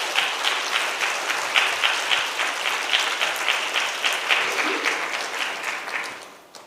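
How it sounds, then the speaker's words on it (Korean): A church congregation at a Friday worship service claps to welcome a pastor to the pulpit, a sustained, fairly loud round of applause with a steady beat-like pulse that fades out at the end. "우리 박수로 환영하겠습니다"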